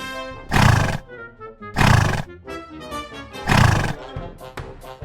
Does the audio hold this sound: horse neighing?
yes